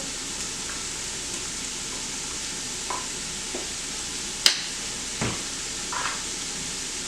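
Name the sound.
garlic added to sizzling vegetables in a pot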